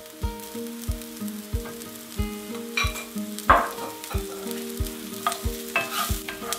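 Butter and garlic fry in a pan while a utensil stirs and scrapes in a steady repeating rhythm, the crackle close and clear with no voices.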